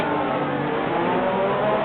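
An F1 car engine drones at a steady, even pitch during a pit stop in the F1 2018 video game, a loud, continuous mechanical tone with no breaks.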